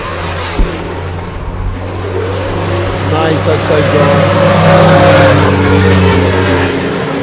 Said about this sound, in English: This car sounds wild.